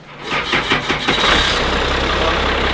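Cummins-swapped Ford Ranger fitted with twin turbos cranks over and fires, its engine catching with a brief rough burst before settling into a steady, close idle that runs on to the end.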